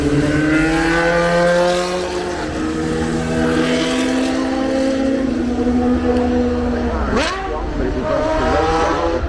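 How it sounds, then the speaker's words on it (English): A three-seater road car with the driver seated in the middle drives past at the Goodwood Festival of Speed, its loud engine note droning steadily and then dipping and rising sharply as it passes close by. "three-seater road car with the driver in the middle"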